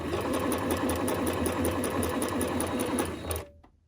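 A sewing machine stitches through fabric laid on paper, running as a steady, loud, continuous whir with rapid needle ticking for over three seconds before stopping abruptly, with no talking.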